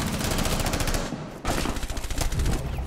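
Rapid automatic gunfire in the tactical shooter Rainbow Six Siege, loud dense bursts that pause briefly and then resume, with no talking.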